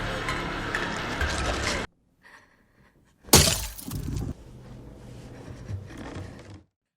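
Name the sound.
glass jar cracking from inside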